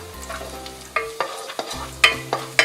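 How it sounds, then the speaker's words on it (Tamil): Cashews and raisins frying in ghee in a pan for rava kheer, with a low steady sizzle under a series of sharp spoon scrapes and clinks against the pan that grow louder and more frequent toward the end. "திராட்சையை அதில் போட்டு லேசாக வறுத்து எடுத்துக்கலாம்"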